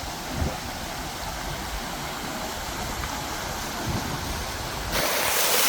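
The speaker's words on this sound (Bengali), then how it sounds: "এখন একটা বড় ঝর্ণা আছে আমার পিছনে বড় না ছোট ঝর্ণা বাট অনেক বেশি ফ্লো পানির স্রোত অনেক বেশি" Constant roaring rush of a small waterfall's strong flow nearby in the Meghalaya hills, broad and steady, swelling louder toward the end.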